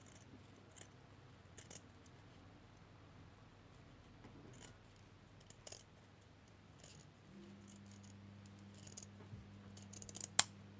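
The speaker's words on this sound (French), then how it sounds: "Couper un peu les bords de ma feutrine parce que j'en ai mis un peu trop." Scissors trim the edges of felt in a quiet room, giving a series of faint, sparse snips spread out over a low background hum.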